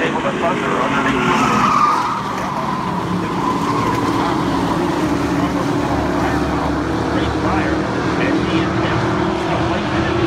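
Stock cars racing on a track with tires skidding: a loud, continuous roar of engines and tire noise that stays steady throughout, with a voice talking over it.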